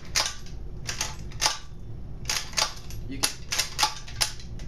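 Repeated cocking of an ABS plastic airsoft 1892 lever-action rifle, sharp light plastic clacks coming in quick clusters with short pauses, close to the microphone.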